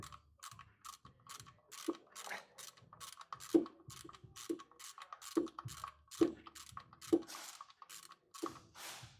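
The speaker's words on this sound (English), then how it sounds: "I'm now gonna get the ratchet and taking this steering plug up." A hand ratchet clicking in short pulled strokes while removing a steering plug on a Land Rover Discovery 2 TD5, close and quiet, with evenly spaced clicks and faint mechanical creaks.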